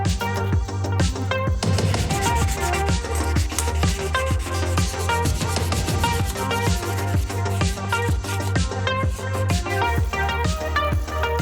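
Sandpaper rubbed by hand over a metal horseshoe, a close, steady rasping scrub in repeated back-and-forth strokes with no talk.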